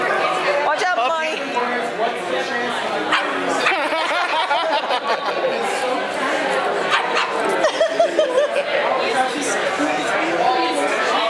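A dog at a furry convention barks, yips and whimpers in short bursts, close by, amid a crowded hall of overlapping chatter and people talking.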